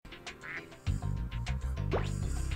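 Ducks quacking in Spyro 2: Ripto's Rage, Mystic Marsh level: a few brief quacks over steady game music with a rising sound effect, all fairly close and moderately loud.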